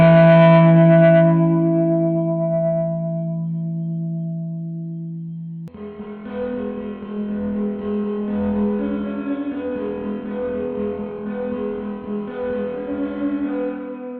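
OBNE Black Fountain stereo delay pedal set to fast modulation and maximum feedback, heard as a sustained distorted, wobbling guitar tone that cuts to a dense, swirling wash of echoing repeats, loud throughout with no talking.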